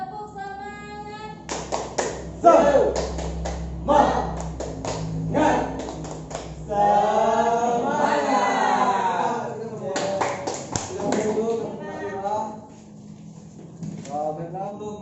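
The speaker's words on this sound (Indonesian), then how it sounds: "Tepuk semangat." A fifth-grade class repeats the tepuk semangat, crisp patterned hand claps alternating with loud group chanting, several clap bursts spaced through the stretch with voices in between.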